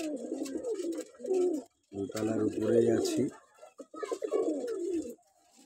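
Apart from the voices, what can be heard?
birds eating near a first-floor balcony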